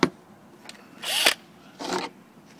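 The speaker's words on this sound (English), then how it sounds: "I'm drilling the hole" Small power drill boring a hole for the hinges of a motorised Iron Man faceplate, heard as two short whirring bursts up close, separated by a quiet pause, with no talking.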